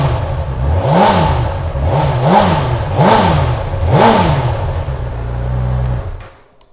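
A 2019 Honda CB1000R Plus motorcycle with a detuned Fireblade engine fires up and is blipped four times in an even rhythm, each rev rising and falling over a steady idle, then settling before cutting off; close and loud, no talk.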